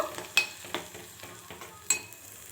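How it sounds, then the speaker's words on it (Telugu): Red chili chutney being stirred in a pan off the heat, with a few distinct scraping clinks of the spoon against the metal over a faint sizzle, close and fairly quiet. "ఇప్పుడైతే ఒక్కసారి చక్కగా కలిపేసుకొని గిన్నెలోకి అయితే తీసేసుకుందాము"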